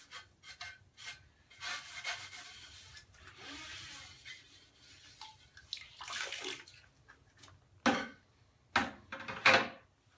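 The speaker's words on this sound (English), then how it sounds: "So you take your sponge and wash it off in the bucket." A sponge is rinsed in a bucket of water during plaster ceiling repair, with irregular wet rubbing and sloshing up close, ending in a few louder splashes and squeezes.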